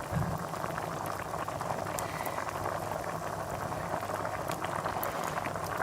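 Pumpkin kheer, a milk pudding with petha, simmers in a pot, giving a quiet, steady bubbling and popping that continues evenly throughout with no voices.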